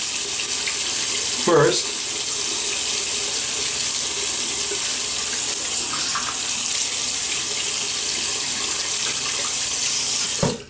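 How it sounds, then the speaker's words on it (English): Water runs steadily from a bathroom tap into a sink while someone wets their face before a shave with St James of London soap. The flow is loud and close, with a brief splash near the start and a single spoken word. "I'm gonna just wet my face here"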